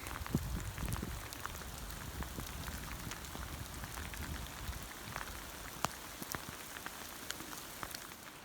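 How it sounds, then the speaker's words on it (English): Light rain patters steadily on a mountain hiking trail in Rocky Mountain National Park, a soft hiss broken by scattered drips and taps close by, with no voices. "Still a light drizzle, but nothing compared to what we've been hiking through"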